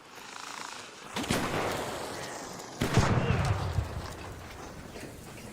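Gunshots in the video game ARC Raiders, two sharp cracks a couple of seconds apart over rumbling in-game background noise, moderately loud rather than right up close.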